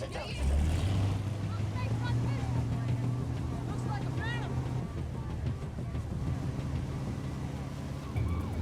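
A speedboat engine drones steadily on open water, with wind buffeting the microphone and faint voices in the background.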